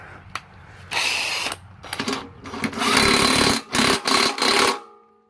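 Impact wrench tightening a 15/16 nut on the starter cup of a store-returned Murray MTD push mower, with loud, close, rattling hammering bursts that stop and restart several times before cutting off.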